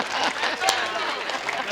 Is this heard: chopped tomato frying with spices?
no